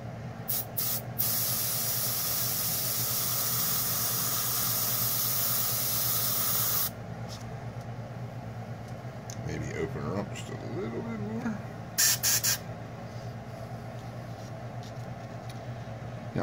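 A spray gun shoots paint through a stencil laid on a feather, working from the outer edge inward, giving a steady hiss for about seven seconds with a few short puffs, then quieter handling noise and faint voice-like sounds.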